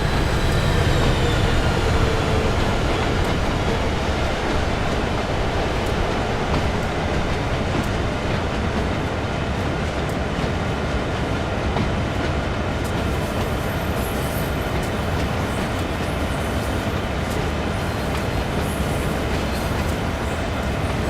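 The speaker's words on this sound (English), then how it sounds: "There goes the commuter rail train." A simulated commuter rail train in the Train Sim World 6 video game rumbles past steadily and loudly for the whole stretch, wheels clattering over the rails with a broad, continuous roar and no voices.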